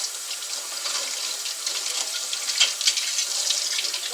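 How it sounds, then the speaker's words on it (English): Running tap water pours steadily into a kitchen sink while something is rinsed out, a close, continuous hiss and splash without pauses or speech. "Just about rinsed out."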